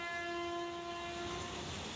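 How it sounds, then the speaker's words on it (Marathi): A goods train passing near Jeur railway station, with a loud sustained horn tone over rolling rail rumble, close and continuous. "आपल्याला समोरून एक मालगाडी जाताना दिसते."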